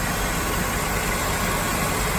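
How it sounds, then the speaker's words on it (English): A 1971 Chevy Nova's 250 straight-six with automatic transmission idles steadily, a constant low rumble with a broadband hiss and no other sounds. "We have a 1971 Chevy Nova with a 250 straight six engine"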